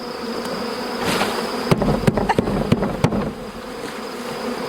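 A steady swarm of honeybees buzzing nearby while a beehive is set up, with several sharp knocks and taps breaking through the drone in the middle.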